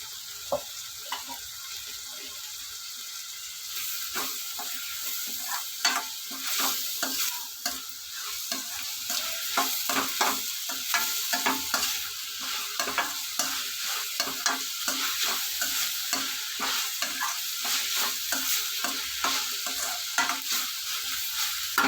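An Andhra-style prawn curry base with curry leaves and turmeric frying in a pan, a constant close sizzle broken by repeated scraping stirs that grow busier as it cooks.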